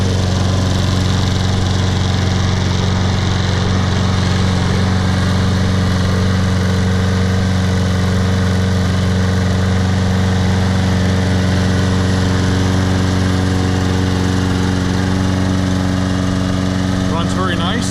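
A Troy-Bilt 21-inch push lawn mower with a Briggs & Stratton 675 Series auto-choke engine and plastic deck runs steadily and close by, a constant droning hum throughout with no pauses.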